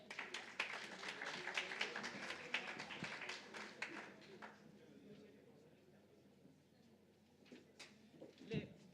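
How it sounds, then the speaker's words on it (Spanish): Audience applause welcoming a speaker at a national judicial conference, a dense patter of many hands for several seconds that thins out and fades, with speech and room noise toward the end. "Un aplauso de bienvenida,"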